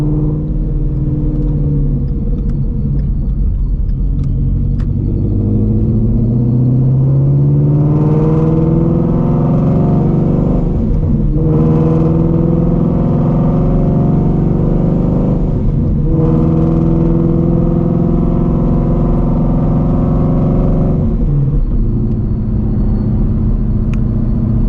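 A supercharged Shelby GT350 Mustang running on E85 pulls hard in third gear from 60 to 130 mph. The engine roars close and loud without a break, its pitch rising and dipping over about twenty-five seconds, with no talking.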